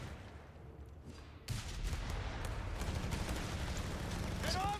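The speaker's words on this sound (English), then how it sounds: "Mortar harassing the grenadiers there" Mortar fire hitting grenadiers in Company of Heroes 3: after a quieter lead-in, a dense rumbling barrage of explosions and gunfire swells and holds, loud and continuous with muffled booms.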